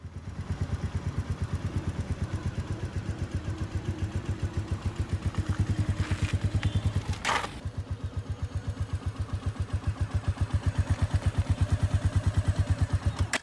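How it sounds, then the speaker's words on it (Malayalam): Motorcycle engine running at low revs during throttle control practice on a small slope, a steady close pulsing thump with a brief louder burst midway and slight swelling toward the end. "മോട്ടോർ സൈക്കിളിൻ്റെ ശബ്ദം ശ്രദ്ധിച്ചുകൊണ്ട്"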